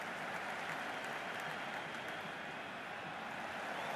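A packed roof-covered stadium crowd in the cricket game Cricket 26 roars in a steady, loud wash of cheering and applause, continuous and dense throughout with no voices standing out.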